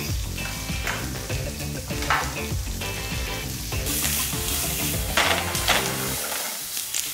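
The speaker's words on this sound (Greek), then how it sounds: "θα σοτάρουμε τα κρεμμύδια" Onions sauté in rendered wild boar fat left in a frying pan, a loud dense sizzle that swells into a brighter hiss midway, with low thumps of pan handling underneath and no speech.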